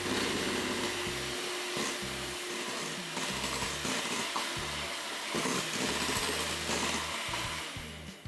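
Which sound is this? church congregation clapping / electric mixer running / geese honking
electric mixer running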